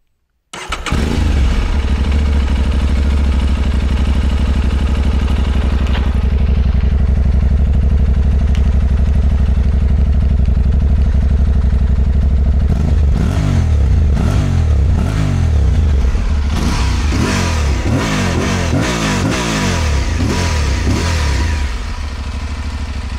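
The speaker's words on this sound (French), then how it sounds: "ce qu'on entend surtout, c'est le bruit de la boîte à air" An Aprilia Tuareg 660 motorcycle starts and idles with a loud, steady engine note and prominent airbox intake noise, then is revved repeatedly in sharp rising and falling bursts before settling back down.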